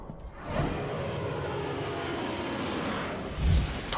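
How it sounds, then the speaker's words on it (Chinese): An airplane taking off as an animated drama effect, a loud, steady jet-engine roar that swells in, holds for about three seconds, then thumps and fades near the end. "飞机要起飞了"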